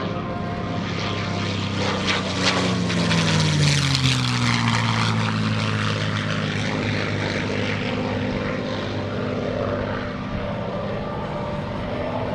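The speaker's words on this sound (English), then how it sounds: "we're getting one more pass from Mr. Jim Beasley" A propeller airplane makes a low pass at the 2017 NAS Oceana airshow, its engine roar swelling loud overhead and then sliding lower in pitch as it recedes, droning steadily throughout.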